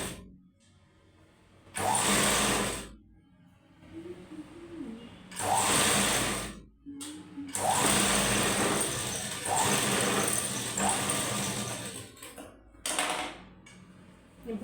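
Sewing machine stitching the front part of a blouse, a close, loud mechanical whir in several runs of a second to a few seconds separated by brief quiet gaps, with no talking over it.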